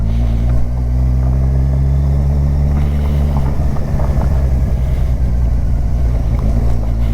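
Motorcycle ridden over a badly broken, bumpy road on a solo ride from Bangalore to Goa, a loud continuous engine drone with heavy wind rumble and jolting bumps, close to the microphone, with no speech.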